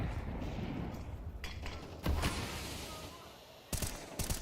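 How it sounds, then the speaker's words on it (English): Rapid gunfire in a Counter-Strike pro match as a player empties a full magazine into a smoke grenade cloud, bursts of shots over background game noise and a commentator's voice. "Flamesy unloads his mag into the smoke and finds the young Ukrainian"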